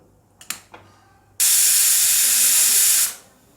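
A pressure cooker boiling peas with turmeric and mustard oil for Bengali ghugni lets off steam. A few soft clicks come first, then a loud, steady, close hiss of venting steam that runs for almost two seconds and fades out.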